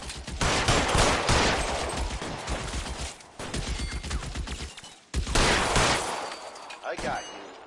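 Gunfire in L.A. Noire, dense bursts of rapid automatic shots, loud and close, broken by brief pauses between volleys, with a final heavy shot near the end.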